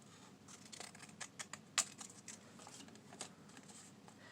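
Scissors snipping paper petals out of a craft sheet, making quiet, irregular crisp cuts with one sharper snip, close and faint, with no voices.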